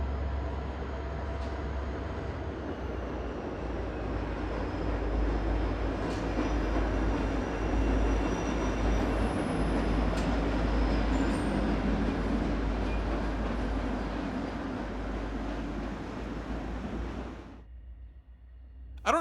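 A long CSX freight train rolls past on the tracks near an old passenger platform, a loud, sustained rumble and steel-wheel roar with faint squeals that holds steady, then cuts off abruptly near the end.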